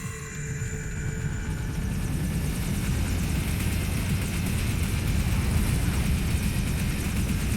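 A helicopter in the video game Metal Gear Rising: Revengeance gives off a loud, steady rotor and engine roar that rumbles without pause and is heard on its own.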